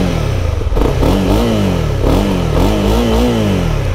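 A 2022 Honda CB300R motorcycle engine revs up and down repeatedly at close range, rising and falling in pitch with a throaty note and some mechanical clatter.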